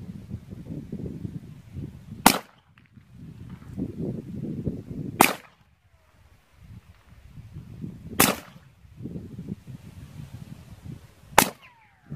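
Four sharp suppressed rifle shots from Gorilla 205-grain subsonic 300 Blackout ammunition during a velocity test, evenly spaced about three seconds apart, with low outdoor rumble between them.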